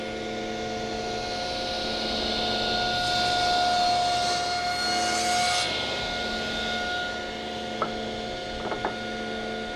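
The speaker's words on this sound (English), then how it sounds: "we're off to the table saw for a quick cut" Table saw making a quick cut through a wooden cabriole leg blank, a steady motor whine that swells as the blade bites midway, then settles, with a few faint knocks near the end.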